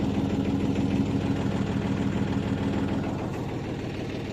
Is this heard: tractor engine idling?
yes